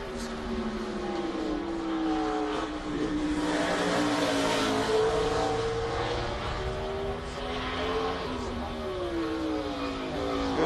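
A NASCAR Cup stock car engine at qualifying at Sonoma road course, rising and falling through gear changes as the car laps, heard at a moderate distance with steady revving and no talk on top.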